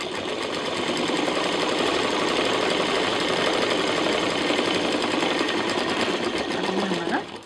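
A sewing machine stitches a DIY handbag with its lining, running steadily and fairly loud for about seven seconds with a fast, even mechanical rhythm.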